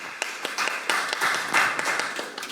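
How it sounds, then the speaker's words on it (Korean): Conference audience applauding a Kakao Healthcare executive at a Korean medical-innovation debate forum, a steady patter of many hands clapping at moderate level, continuous throughout with no speech over it. "여러분, 상무님께 큰 박수 부탁드리겠습니다."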